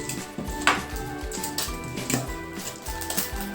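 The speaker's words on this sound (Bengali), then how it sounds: "রোস্টেড বাদাম, এটা এই মুড়ির সঙ্গে মিক্স করছি।" Roasted peanuts stirred into puffed rice (muri) for a no-cook masala muri, giving a few scattered dry clattering rustles under steady background music.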